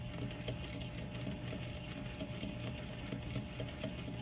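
A sewing machine with a rolled hem foot runs steadily while stitching a quarter-inch rolled hem, giving a close, continuous motor hum with a fast, even needle rhythm throughout.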